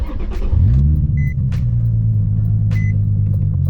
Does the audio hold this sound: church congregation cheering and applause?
no